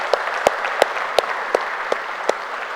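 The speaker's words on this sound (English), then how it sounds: "Can we have a bigger round of applause for the chief guest?" Audience at the FTCCI Excellence Awards ceremony at HICC, Hyderabad, applauds in a steady, even wash of clapping, with a few sharper separate claps standing out at regular intervals over the dense crowd noise.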